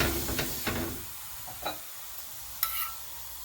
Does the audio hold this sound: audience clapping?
no